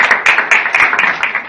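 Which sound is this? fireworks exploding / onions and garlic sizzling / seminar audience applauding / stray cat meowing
seminar audience applauding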